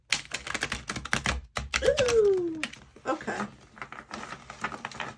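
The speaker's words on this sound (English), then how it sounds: "Let's see how it shuffles." Rapid fluttering clicks of slightly slippery tarot cards being riffled together in a few bursts, close up, with a short voiced exclamation in the middle.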